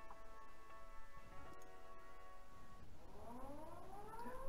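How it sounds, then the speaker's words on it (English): Air-raid style sirens wail and rise in pitch in the Titanic: Adventure Out of Time game, starting after a steady mechanical ticking and building into several overlapping sweeping tones at moderate loudness. "I hear sirens"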